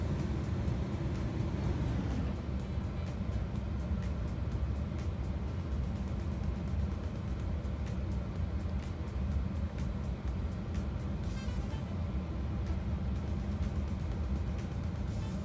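An MD-11 airliner's number 3 engine spooling up during start in a flight simulator game: a steady, dense, low turbine roar with a broad hiss that holds constant and close throughout, with no talk.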